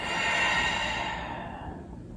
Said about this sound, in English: Take a nice full breath. Release it out.